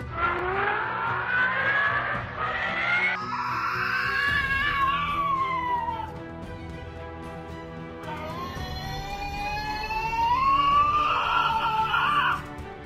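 Tasmanian devil: shrill, wavering screams rise and fall in long harmonic cries, loud and close, with brief pauses between bursts of screeching.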